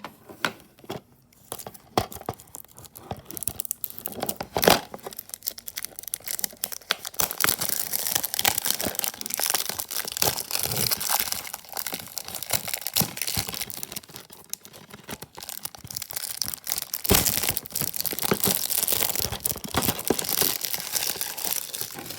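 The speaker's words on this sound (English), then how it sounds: "Now I got the plastic off" Plastic wrap is torn and peeled off a DVD case, with loud, close crinkling and ripping that comes in irregular bursts and continues for a long stretch.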